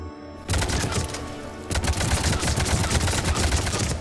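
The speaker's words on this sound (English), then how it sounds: "We got an auto rifle here. Very sporadic, lots of muzzle jump." An auto rifle in the video game Destiny fires rapid, sporadic automatic bursts. The loud, dense fire starts after half a second and grows heavier and more continuous partway through, with no voices over it.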